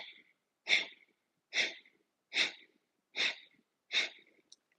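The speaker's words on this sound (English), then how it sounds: "You'll take a deep inhale, let the belly expand outward. And then you exhale through the nose and" Forceful breathing exercise: five sharp, hissing exhales pushed out through the nose at an even pace of about one per second, close and clear, with near silence between them.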